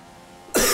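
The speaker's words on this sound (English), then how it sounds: "excuse the coughing" A single sudden harsh cough bursts out loudly and close over a quiet background hum during a Formula 1 racing game at the Austrian Grand Prix.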